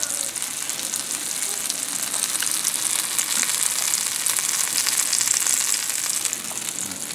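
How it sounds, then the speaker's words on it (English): Roast beef searing on a Rec Tec grill after smoking, a steady broadband sizzle that holds loud and continuous throughout with no talking. "just gonna sear every side of it here"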